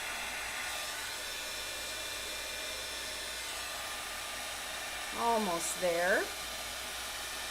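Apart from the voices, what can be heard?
heat tool heating a card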